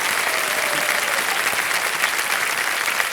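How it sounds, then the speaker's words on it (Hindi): A game show studio audience on KBC India breaks into loud, sustained applause after a contestant wins 50 lakh rupees, dense clapping filling the room for several seconds with no voices over it. "एक बार फिर जोरदार तालियां बज जाए।"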